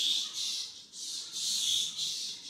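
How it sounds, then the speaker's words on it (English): Bats in the Maldives give high, shrill squeaks in a dense, continuous chorus that swells and fades in uneven waves, faint and somewhat distant, with no voices. "Those are the bats, if you're wondering what that noise is."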